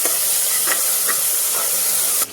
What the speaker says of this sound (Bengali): এখানে দিয়ে দিচ্ছি আদা রসুনের পেস্ট